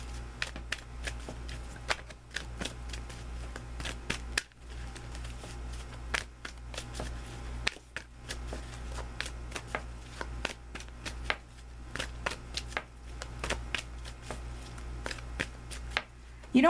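Tarot cards shuffled by hand for a guidance draw, a steady run of soft riffling clicks and flicks over a low constant hum, close and fairly quiet, with no talking.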